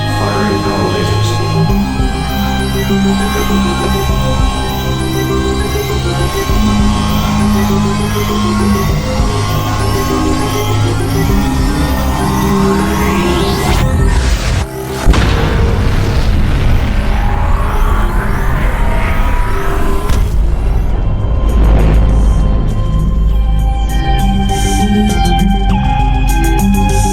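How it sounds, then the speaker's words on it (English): Power lasers fire inside a sci-fi video game facility during a Halloween event: loud, dense electronic hums and tones build up with rising and falling sweeps, a sharp break midway, then a heavier, noisier burst. "Firing power lasers."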